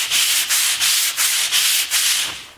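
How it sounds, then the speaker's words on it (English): Sandpaper held under the thumb and palm rubs back and forth along the grain of wood by hand in steady, even strokes, about seven close scratchy passes with brief pauses between. "I'll always sand with the sandpaper sort of just under my thumb and my palm applying all the pressure"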